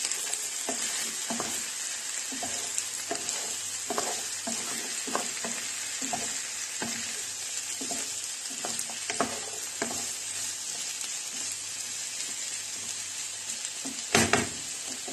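Potatoes fry in a pan with a pepper mix for a vegetable stew, and a utensil stirs them. A continuous soft sizzle runs beneath repeated scraping and knocking strokes, with a louder clatter near the end.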